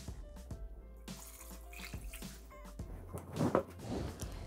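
Water runs from a tap into a Thermomix TM6 bowl while making artichoke risotto, a steady close splashing stream that swells briefly before settling, with no talk.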